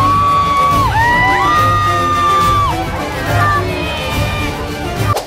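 Crowd noise at the opening of a film festival greeting Johnny Depp: sustained cheering, whoops and shouts from a large audience, loud and continuous with voices rising above the din.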